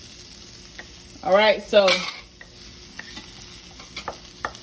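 Onion and garlic frying in a pan, a steady low sizzle with occasional stirring clicks, briefly under a short spoken remark.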